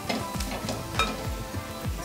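Loud, steady sizzling of spices frying in a hot pan, with occasional stirring scrapes and light clinks of a utensil against metal.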